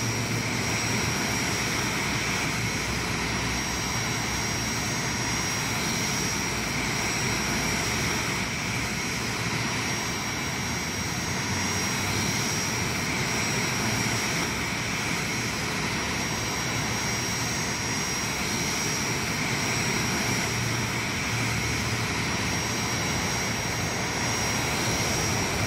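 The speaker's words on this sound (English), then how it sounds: "The aircraft is moving away from the center line." Aircraft engines drone at a steady, loud level without pause as a plane taxis on an airport apron in the VR game Airport Ground Handling Simulator, with a constant whine sitting above a broad rumble.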